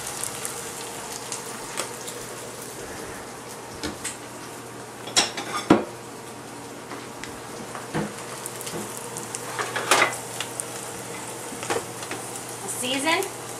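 Eggs fry in a pan with a soft, continuous sizzle, broken by occasional sharp clinks and scrapes of utensils against cookware.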